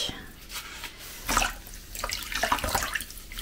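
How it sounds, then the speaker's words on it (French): A soaked wool skein being wrung out after dyeing, giving splashing water and drips that fall back into a basin, close and moderately loud in short bursts, with no speech. "Donc on reprend notre bassine ou notre écheveau trempé. Et on va maintenant l'essorer."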